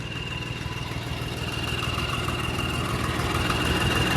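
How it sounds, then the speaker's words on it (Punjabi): A tractor engine left running at idle, a steady low mechanical drone with a rhythmic throb, close by and gradually growing slightly louder, with no one talking. "ਟਰੈਕਟਰ ਬੰਦ ਤਾਂ ਕੀਤਾ ਹੀ ਨਹੀਂ ਉਦੋਂ ਦਾ"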